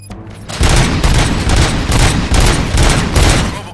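Rapid bursts of gunfire in the video game Robocop: Rogue City, loud repeated volleys of shots after a brief quiet start, continuing without pause to the end.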